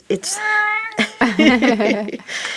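A cat meows in a long drawn-out call, then gives a second, more broken meow close by, with a person speaking briefly to it.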